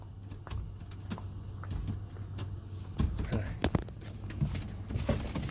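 Keys jangle and clink at a 1977 Ford Mustang II during restoration work, a series of sharp metallic rattles close by, busiest in the second half, with a steady low hum underneath.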